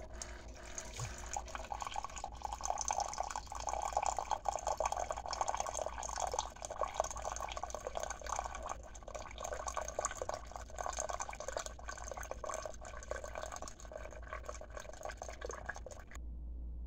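Hot water is poured onto seed-starting pellets, giving a continuous soft trickle and splash for about sixteen seconds, steady and close, with faint dripping before it stops abruptly.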